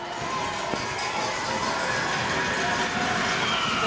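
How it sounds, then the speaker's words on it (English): A basketball crowd at a Franklin Bulls versus Southland Sharks game roars loudly and steadily to disrupt a player, a broad sustained wash of cheering and noise filling the arena. "The crowd going off, trying to disrupt Jones."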